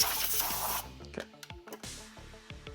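A burst of compressed air hisses hard in a car repair shop while debris is blown out of the spark plug area of an engine. It stops after under a second, and a string of faint clicks and knocks follows.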